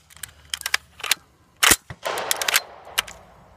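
Suppressed ACR rifle firing a rapid string of sharp, clipped reports interspersed with mechanical clacks, moderately close with no talking.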